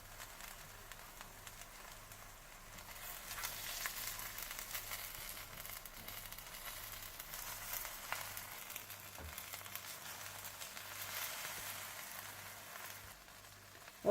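Bihari boti meat pieces fry in a pan with butter or oil, giving a steady, soft sizzle that runs quietly and evenly throughout, with a faint low hum underneath.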